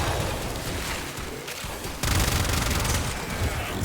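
Rapid, dense gunfire from a gun in the video game Warframe keeps up without a break and grows louder and harsher halfway through.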